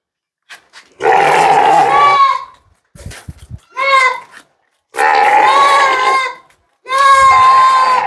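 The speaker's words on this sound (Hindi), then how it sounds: "एक बहुत ही शानदार पतीरा बकरी है" A Patira goat bleats loudly and close by in long, quavering cries, three or four drawn-out calls separated by short pauses, with a few brief bursts of other noise between them.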